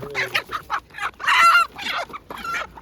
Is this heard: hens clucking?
yes